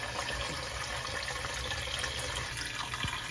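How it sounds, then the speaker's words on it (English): Hot water runs from a newly installed Kohler Kaori kitchen faucet, a steady, even rush of flow into the sink with no talking. "we'll start slowly opening the hot water valve, and we will let it drain until we see no dirt"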